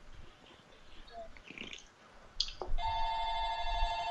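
A telephone starts ringing with a steady electronic tone, loud and close, cutting in after a few soft background noises during a Minecraft session.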